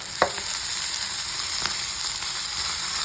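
Turkey berries frying in a little oil in a pan, a steady soft hiss with a couple of sharp spatula taps.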